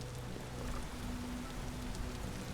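Rain in a sandbox survival game, a steady dense hiss of falling drops holding an even level throughout with a faint low hum beneath, no talk.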